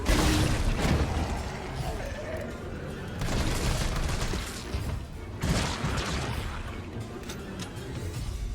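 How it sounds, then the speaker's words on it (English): Grenade explosion and gunfire in the survival horror video game Resident Evil 3 Remake, a dense, loud wash of booming blasts and rattling shots that swell and fade in waves across the clip, with no voices. "then you can go ahead and throw a grenade"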